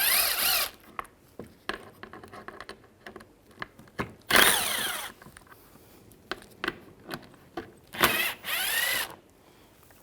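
A power driver with a T25 socket backs screws out of a plate bracket on a 1998-2010 Volkswagen Beetle front bumper, three short whirring bursts close by separated by quiet clicks and handling noises.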